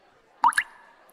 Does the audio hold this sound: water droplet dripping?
yes